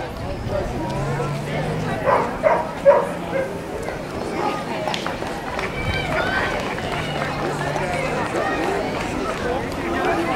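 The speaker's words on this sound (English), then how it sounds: "She is our grand dog and likes to bark when walking and driving in the car" A dog in a small-town dog parade barks in short bursts, several sharp woofs and yips close by, over a crowd with steady talking throughout.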